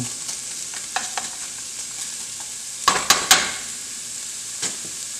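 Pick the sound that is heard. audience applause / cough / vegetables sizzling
vegetables sizzling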